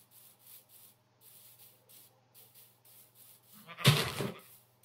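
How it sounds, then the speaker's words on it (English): A Minecraft sheep lets out one short, loud bleat near the end, preceded by a steady rhythmic scraping like in-game footsteps; no talk. "Well, here's some sheep."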